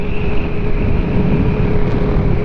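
Kymco scooter riding along, with steady engine drone and heavy, continuous wind rush buffeting the microphone.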